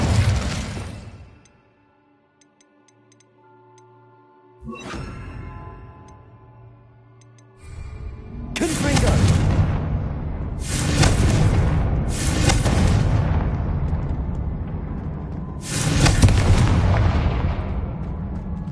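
A fire spell cast in Hogwarts Legacy on PS5, heard as a run of loud, bursting whooshes and blasts, the first near the start and a dense rapid series of three or four from the middle to the end, each with a sharp onset and a rumbling tail.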